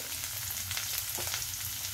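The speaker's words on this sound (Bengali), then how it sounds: "এবার মশলাটাকে আমি ভালো করে ভাজা করে নিচ্ছি।" Brief close sizzle of turmeric, cumin and chili powder frying in a pan with potatoes, soft crackles and pops over a low steady hum.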